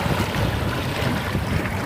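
Sea waves rolling in, a steady broadband wash of water with wind noise buffeting the microphone throughout, loud and continuous with no distinct breaks.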